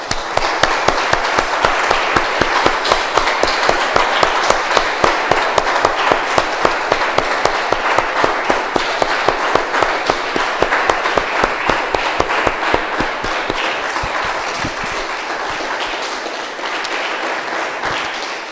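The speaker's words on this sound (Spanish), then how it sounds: "Un aplauso," Church congregation applauds at the close of a Spanish-language sermon and prayer, a long round of dense clapping that opens with a strong rhythmic beat and then thins slightly toward the end.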